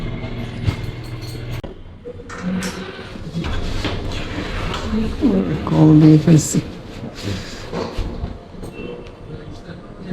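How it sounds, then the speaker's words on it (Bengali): A train rumbles past at a railway crossing with rolling, clattering wheel noise and a brief metallic squeal. Nearby, someone speaks over it. "ট্রেন কোথায়? ট্রেন"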